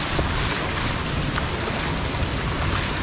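Floodwater rushing along a flooded mountain road in Barangay Palola, a steady broadband roar of churning water and wind close to the microphone, continuous and loud with no talking.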